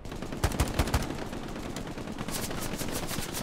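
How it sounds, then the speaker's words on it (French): Machine gun fire in the World War II shooter Hell Let Loose: a rapid burst of sharp, loud reports at the start, then further crackling gunfire farther off. "Ouh, mitrailleuse."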